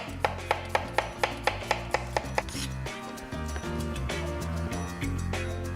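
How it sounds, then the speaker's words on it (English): A knife slicing radishes on a chopping board, with about a dozen crisp, evenly spaced chops in quick succession, followed by a steadier background of kitchen sounds, close and clear. "radishes, just slice them down at an angle"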